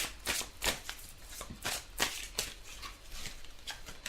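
A deck of tarot cards is shuffled by hand in a quiet, close-up series of soft riffles and slaps repeating at an irregular rhythm.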